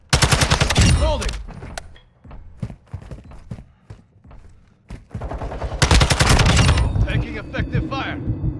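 Call of Duty automatic gunfire rattles in fast, loud bursts at the start and again near the end, with scattered single shots and game voice callouts between them.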